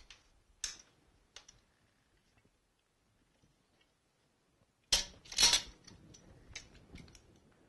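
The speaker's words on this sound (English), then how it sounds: "I'm going to finish cutting through the pipe in this step." Saw cutting through a plastic sump pump drain pipe, short scraping strokes at first, a pause, then a louder burst of rasping cuts near at hand.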